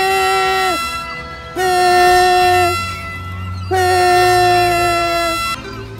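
In the VR game Final Approach, an air horn is blown at seagulls in two long, loud, brassy blasts, each held for roughly two seconds, with a lower drone and game sounds underneath.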